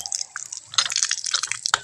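Water runs from a newly installed Jetmatic electric pump, heard as close splashing and dripping with irregular wet bursts over a short stretch.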